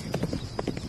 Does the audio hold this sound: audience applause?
no